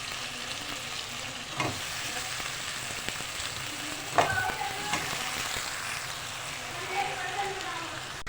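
Thick eggplant slices dropped into hot masala in a pan, a continuous sizzle and crackle with a couple of sharp splashes and stirring scrapes as someone talks over it.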